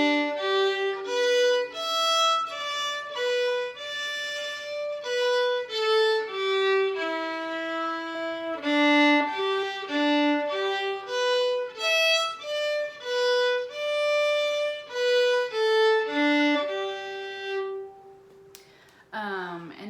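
Fiddle plays the A part of the tune "In Come a Bee", a lively run of bowed notes with steady pulsing bow strokes, close and clear on its own, ending with a brief noise.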